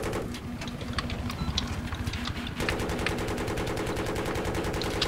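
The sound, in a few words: rockets fired from helicopter in Battlefield 3 video game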